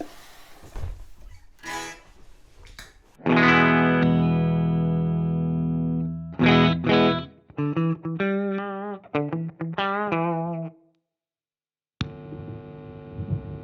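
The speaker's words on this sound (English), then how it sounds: "I'm going to be using this Emily Wolf Sheraton Epiphone into the Strymon Iridium, which is on the Fender mode" An Epiphone Sheraton electric guitar played through a Strymon Iridium amp modeler set to Fender mode, with sustained chords and then a run of picked notes and phrases, loud and close, ending in a short pause before a final strum.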